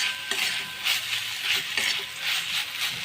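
A spoon stirs fenugreek greens mixed with fried lentil dumplings in a pan, giving soft repeated scraping strokes about every half second over a low sizzle, close and moderately loud.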